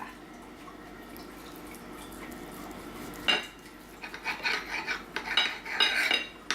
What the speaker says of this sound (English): So just basically cut your pork, and I've got a lot of pork chops to go.